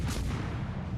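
Heavy warship main guns boom in World of Warships Legends, one dense, loud rumbling blast filling the low end and sustained for about a second.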